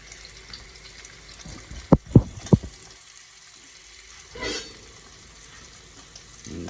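Food being washed under running water, a soft splashing wash broken by a few sharp close knocks and clatters, then a brief burst of water before a quieter stretch.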